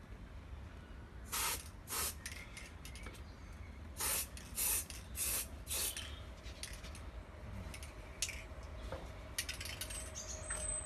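A spray can or gun lays a first coat of metallic reactive paint onto a fiberglass Roman relief panel, giving several short, quiet hissing bursts separated by pauses, alone in a hushed room.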